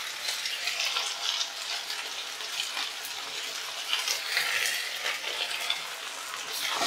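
Slit green chilies and turmeric stir in hot oil, giving a continuous close hissing sizzle with soft scraping swirls of movement and no voices.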